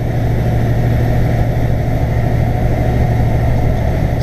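A Freightliner truck's Detroit DD15 engine of about 560 horsepower drones steadily from inside the cab, a loud continuous low rumble with a faint high turbo whistle running above it and no talking.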